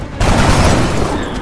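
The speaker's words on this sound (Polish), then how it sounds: "Mateusz odda swój pierwszy strzał" Gunfire from the video game XCOM: Enemy Within, a loud burst of shot noise that erupts after a brief quiet start and sustains as a dense, rumbling volley, fading slightly toward the end.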